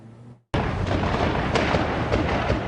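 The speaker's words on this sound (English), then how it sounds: "The sound of rapid gunfire echoes across this Providence neighborhood." Gunfire during a police standoff in a Providence neighborhood, with hundreds of rounds fired: after a brief silence, a loud, sustained burst of dense, echoing shots fills the rest of the clip with no talk.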